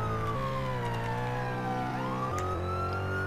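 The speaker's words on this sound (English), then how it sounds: "Our sirens are all on." A police car siren in the Roblox game Redwood County wails steadily and loudly in a continuous rising and falling tone, alone with no talking.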